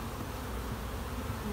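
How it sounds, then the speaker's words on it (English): Honey bees shaken down into the lower brood chamber of a hive make a dense, close, continuous buzzing drone. "we're shaking the bees down into the lower brood chamber"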